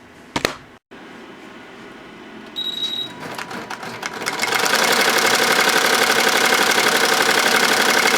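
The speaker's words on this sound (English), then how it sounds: "This is monogramming or embroidering a tie." An embroidery machine stitching a royal blue monogram onto a tie starts up after a few clicks and a beep, then settles into a loud, steady, rapid mechanical chatter that continues to the end.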